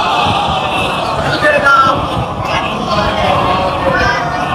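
A crowd at a majlis gathering shouting religious slogans together, a dense roar of many voices in unison swelling and holding, loud and reverberant across the whole stretch.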